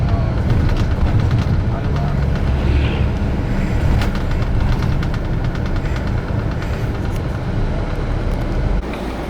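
Yutong bus engine rumbling steadily from inside the cabin while travelling by road between Ngwe Saung Beach and Yangon, a loud, continuous low drone with rattling vibration throughout.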